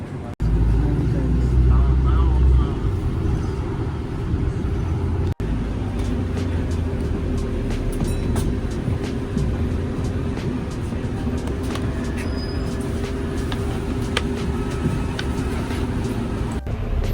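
A London 140 bus ride arriving at Harlington station: steady low engine rumble and road noise inside the bus, with occasional clunks and rattles and a voice talking over it.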